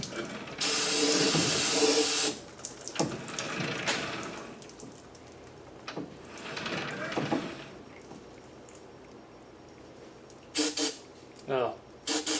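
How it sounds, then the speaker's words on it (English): Brake cleaner hisses in a loud continuous spray into a truck's rear end in a shop, followed by a few short bursts at the end amid clanks and rustling handling noises. "We're going to put some brake clean in there and let her drain out."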